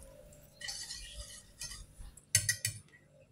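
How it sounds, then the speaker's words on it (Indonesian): A spoon stirring a cold mixture of water and cornstarch in a pot for homemade ice cream, with light scraping and clinking against the metal in short irregular strokes, close and moderately quiet. "Lalu aduk-aduk ya."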